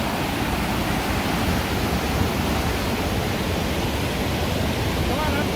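A snow-melt waterfall in Oye, Norway roars as a dense, continuous rushing wash of water, loud and close, unbroken throughout.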